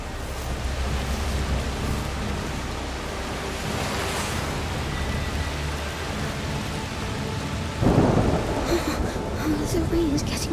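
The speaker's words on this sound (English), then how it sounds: "The rain is getting worse." Heavy rain and a thunderstorm in A Plague Tale: Requiem fill the scene with a dense, constant roar, low thunder rumbling beneath and a louder surge partway through.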